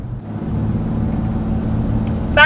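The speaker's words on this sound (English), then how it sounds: "that truck next to me." A truck drives alongside a car, heard as a steady low engine and road rumble from inside the vehicle throughout, with a brief higher tonal sound at the very end.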